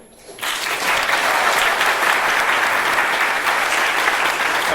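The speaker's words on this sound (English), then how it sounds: "when they give you the signal, please applaud with gusto" An audience at a congregational church bursts into applause on cue after a brief quiet start, then keeps up loud, sustained clapping at a steady level until the end.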